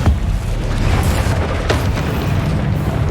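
A Confringo explosion spell bursts in Hogwarts Legacy, a deep boom followed by crackling blasts over a rumbling battle din.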